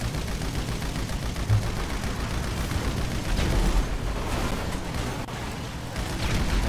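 Heavy gunfire rattles on without a break in a GTA 5 Online battle around a cargo bomb with an aerial escort. Dense, rapid shots and booming blasts blend into a loud, unbroken wall of noise.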